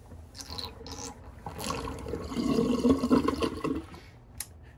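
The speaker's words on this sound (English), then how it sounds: "Let's empty good old Sigmund the Sea Monster sink." Water draining from a sink after a shave, a gurgling, trickling rush that builds and swells in the middle before tapering off, close and fairly quiet.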